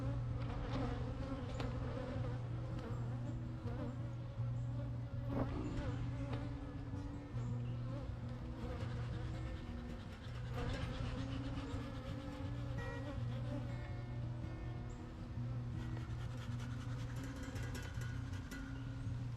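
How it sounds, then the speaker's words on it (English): Honeybees pour out around an aggressive backyard hive during a summer varroa mite treatment, a loud, dense, unbroken buzzing swarm close to the microphone that holds steady throughout. "they are out in force right now"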